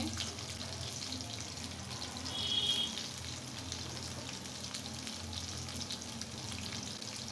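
Chopped onion fries in a pan with a soft, steady sizzle, fairly quiet and continuous, with a brief louder swell partway through and no voices.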